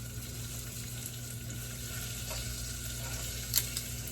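Food fries in a hot pan on a home stove, giving a faint, steady sizzle throughout, with a brief clink near the end and no talking.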